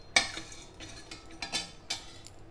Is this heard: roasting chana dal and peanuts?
yes